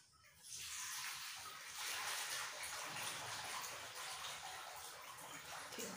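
Water pouring steadily while multigrain pap is washed and sieved, a close, continuous splashing rush that starts abruptly and holds for several seconds.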